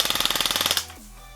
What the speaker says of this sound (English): let's see how fast this gun is shooting